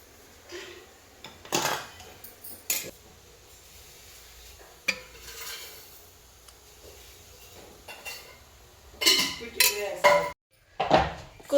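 Spoon scraping and clanking against a pot while thick curd is added to kurma, several sharp metallic knocks and clatters spread out irregularly, louder in a cluster near the end, with quiet stirring in between.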